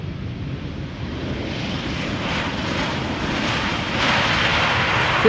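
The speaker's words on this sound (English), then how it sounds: "Arriving for Copenhagen is this A319 from EasyJet." An EasyJet Airbus A319 arriving at Schiphol Airport from Copenhagen produces a steady jet engine roar that grows slightly louder over several seconds, heard at a distance with no voices.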